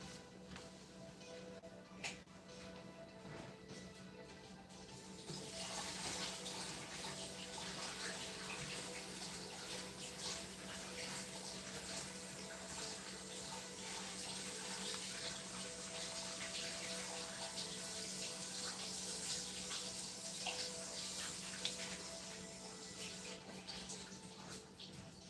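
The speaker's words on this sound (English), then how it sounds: "So I'm going to get a thing of hot water." Hot water runs steadily from a tap into a container, a continuous broadband rush and splash that starts a few seconds in and carries on unbroken, fairly close and moderately loud, with no talking over it.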